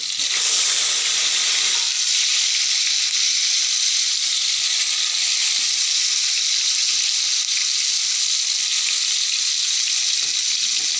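Bitter gourd pieces, seeded and cut large, fry in hot oil for a spicy onion kakarakaya dish, giving a loud, steady sizzling hiss that holds unbroken from start to finish with no voices.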